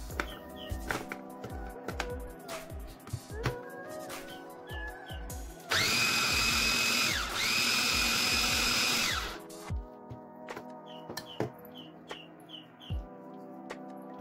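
An electric food chopper grinds tofu for a meat-style tofu steak, a loud steady whirring burst of about four seconds in the middle, with scattered kitchen clatter and faint bird chirps around it.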